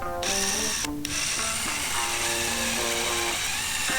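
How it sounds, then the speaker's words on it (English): A power drill bores a hole in a steel file clamped in a vise, giving a steady loud whine with shifting tonal pitches and a brief break near the start, running alone without speech. "be careful with my drill to make sure I have a nice straight hole"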